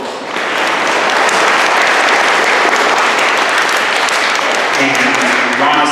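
An audience at a school intermediate band concert applauds after a band solo: dense, loud, steady clapping swells in quickly and holds throughout, with a voice or two faintly audible near the end.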